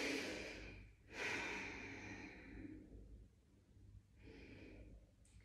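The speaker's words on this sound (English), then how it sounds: "two more deep breaths" Slow, deep breaths drawn in and let out during a gentle children's stretching lesson, each long airy inhale and exhale close and soft with a short pause between.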